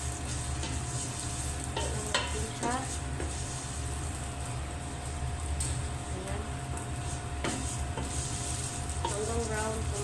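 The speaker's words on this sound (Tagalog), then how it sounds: "Kailangan natin i-prito yung vermicelli tapos maging brown." Vermicelli fries in butter in a very hot pan with a steady crackling sizzle, interrupted by occasional scraping stirs, while a person talks over it.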